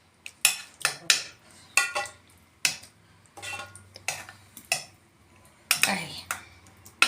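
Tomato, garlic, cumin and coriander sauce for moussaka being stirred in a pan: close, sharp metallic clinks of a utensil striking the pan come in an irregular series of about a dozen knocks, with no talking.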